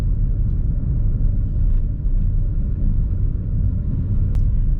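A manual car cruising in third gear, heard from inside as a steady low engine and road rumble that holds an even drone, with a faint brief tick near the end.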